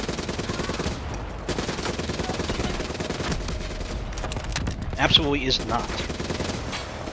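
Assault rifle fire in Call of Duty: Black Ops 3 rattles continuously under a busy battle din, with someone speaking briefly over the shooting.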